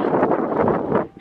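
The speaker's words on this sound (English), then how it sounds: "It's windy." Wind gusts roar steadily across a microphone high on a mountain in the UAE, a close, buffeting rush that fades slightly at the end.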